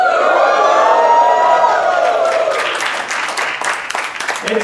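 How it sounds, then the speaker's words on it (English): Wedding guests let out a huge cheer, a loud burst of crowd shouting and whooping that settles into scattered clapping and applause. "we need to make sure we're ready by giving yourselves and them a huge cheer"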